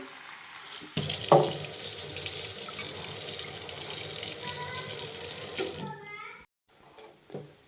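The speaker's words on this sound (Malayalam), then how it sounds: "ഇത് ഇന്നലെ രാത്രിയിൽ വെള്ളത്തിലിട്ടിരുന്ന പയറാണ് ഇതൊന്ന് നമുക്ക് നല്ലോണം ഒന്ന് കഴുകിയെടുക്കാം" Soaked green gram is rinsed under a running kitchen tap, a steady loud rush of water into a sink lasting several seconds, then cutting off to near silence with a few faint clinks.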